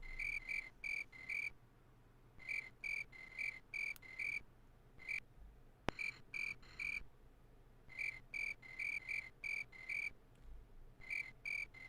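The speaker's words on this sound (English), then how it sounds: "it's just the cricket noises are intermittent" Synthetic cricket chirps from the 1996 film Just Me and My Dad, faint and steady, coming in regular trilled bursts of three or four chirps separated by short gaps, with one sharp click midway.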